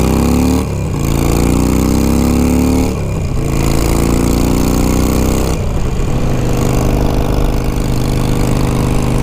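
Harley-Davidson Sportster 883 motorcycle engine running steadily with a loud, close, throaty rumble and a few brief revs or dips in pitch, no talking.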